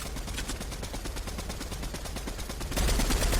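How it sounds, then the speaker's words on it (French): Shooting video game gunfire, a continuous automatic rattle of fairly faint rapid shots throughout, swelling louder near the end. "essaye de mettre des balles"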